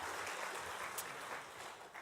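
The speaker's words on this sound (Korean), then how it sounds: "믿음의 청년들을 위해서 박수로 축복해 주시기 바랍니다" A church congregation at a Korean Full Gospel Sunday service claps to bless its young members, a soft, even spread of many hands heard from a distance.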